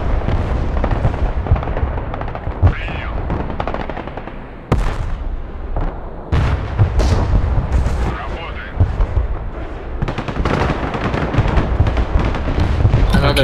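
Dense artillery and gunfire in the Broken Arrow war game roll on almost without pause, with heavy, loud booms and crackling bursts. Players talk over the barrage.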